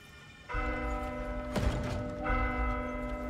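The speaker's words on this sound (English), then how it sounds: "Ring the bell." A large bell tolls in the video game Warhammer: Vermintide 2, its long resonant strike ringing out loudly with a sustained hum, then struck again near the end, with a mechanical creak between.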